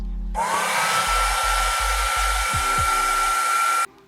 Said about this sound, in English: the hair dryer